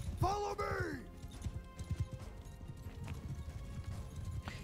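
Horses in a medieval video game battle, neighing sharply at the start and then drumming with a steady clatter of hooves, under a busy battle din.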